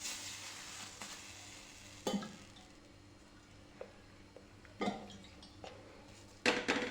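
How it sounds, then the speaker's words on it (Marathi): Water sizzles softly on a bajra bhakri laid on a hot tawa, a low steady hiss broken by a few brief louder spits and splashes as the water is spread across it. "छान असं सगळीकडून मग पाणी लावून घेऊयात भाकरीला."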